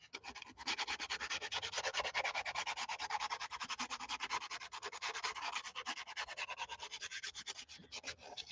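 Quick, rhythmic back-and-forth strokes of sandpaper rubbing on a surface by hand, soft and steady throughout.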